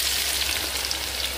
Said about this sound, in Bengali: এবার আমি এর মধ্যে দিয়ে দিচ্ছি কুচিয়ে রাখা পেঁয়াজটা।